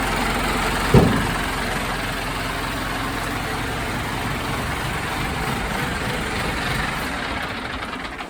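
A tractor's heavy diesel engine idles with a steady low rumble, close and continuous, with a brief knock near the start.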